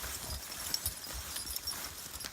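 Horses on a farm walk toward a barn, hooves clip-clopping in an irregular rhythm at close range, fairly quiet with no talking.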